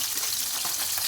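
Pabda fish, coated in salt and turmeric, fry in hot oil with a dense, hissing sizzle that stays steady for about a second, close and alone.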